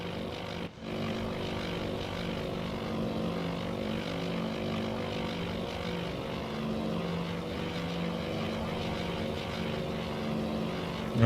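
Steady, droning propeller bomber engines from Task Force Admiral hum continuously at an even loudness, a thick layered engine note broken by one brief dropout near the start.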